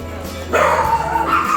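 At a dog park, a dog lets out a loud, close yelping bark that stretches into a whiny, drawn-out call, set against a low background murmur.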